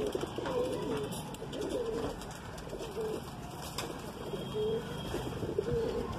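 Madrasi pigeons, including a white female and a Punjabi male, coo in a loft with repeated soft, throaty rolls at close range over a busy, clattering background.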